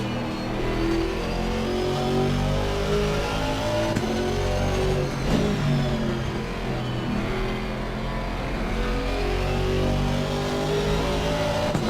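A GT2 race car in a racing video game, its engine close to an Aston Martin's, revs hard and continuously with rising and falling harmonic engine tones and gear shifts, loud and up close.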